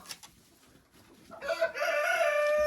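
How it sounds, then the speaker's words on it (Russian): A young rooster kept with backyard Araucana hens in a garden lets out a loud, sustained crow. It begins after a second or so of quiet and rings on to the end, close and alone. "Помните этого петушка, который был отсажен отдельно?"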